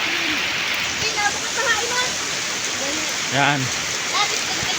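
Floodwater rushes steadily in the rain, a constant broad wash heard outdoors, with voices talking briefly over it.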